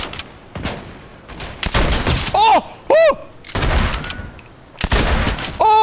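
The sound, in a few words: exotic sniper rifle hip fire in a video game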